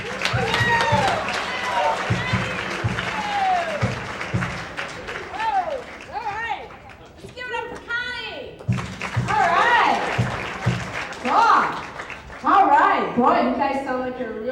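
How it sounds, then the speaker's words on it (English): An audience applauds to welcome a comedian onto the stage, the clapping continuing throughout while a person talks over it. "Put your hands together. Big, big, warm welcome for Miss Ann Hubbarth."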